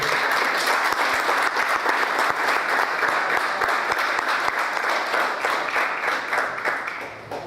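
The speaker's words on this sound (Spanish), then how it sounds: "al cual le pido de ya un enorme aplauso" Large crowd at a political education class gives an enthusiastic, sustained round of applause, dense and steady, fading slightly at the end.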